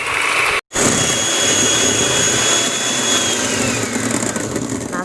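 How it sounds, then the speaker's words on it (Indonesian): An electric mixer whips egg whites at high speed for a tiger-pattern sponge cake, a loud, steady, high whine heard up close after a brief gap at the start. "Kita akan mixer dengan kecepatan tinggi."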